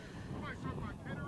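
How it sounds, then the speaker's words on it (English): Strong wind gusts buffet the microphone across a football field during a playoff game, a continuous low rumble with steady roaring, while a commentator's voice sits faintly beneath it. "It's a lot of wind on the field right now."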